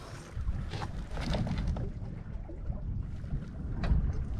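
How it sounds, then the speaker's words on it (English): A sailboat moves under sail with the wind, giving steady rushing wind and water noise with low rumbles of gusts buffeting the microphone. "all of a sudden I got the wind picked up and now we are actually sailing for the first time"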